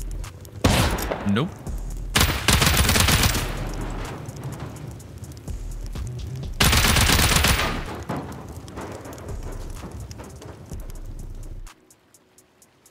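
A shotgun trap firing during a raid in the Rust video game, loud bursts of rapid gunfire in two long volleys with sharp repeated reports, a voice speaking briefly among them.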